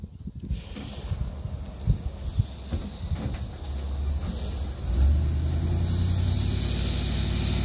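A Ford F-250 pickup in four-wheel drive works on an old asphalt and concrete driveway, its engine droning low and steady, then revving louder near the end amid scraping and rustling.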